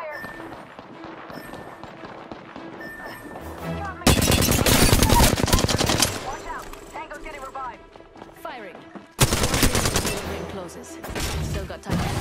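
Video game gunfire erupts in two loud, dense bursts of rapid shots between quieter stretches of footsteps and movement, with voices talking over the action.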